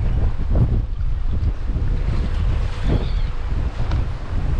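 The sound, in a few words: wind on the Adriatic coast in Šibenik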